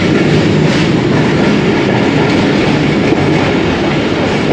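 The Ravi Express passenger train rolls along the rails near the Ravi River, with a loud, close, continuous rumble and rhythmic wheel clatter holding steady throughout, no voices heard.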